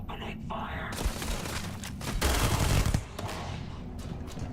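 Gunfire from the video game Starfield, heavy bursts rolling through a dense, loud mix with a sharper cluster of shots near the middle, sounding like sustained automatic fire rather than isolated single shots.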